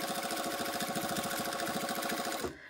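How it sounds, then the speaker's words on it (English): A sewing machine stitching along a pants waistband, a fast, even, close chatter of stitches that runs steadily, then stops abruptly near the end. "Now I'm just gonna sew all the way back."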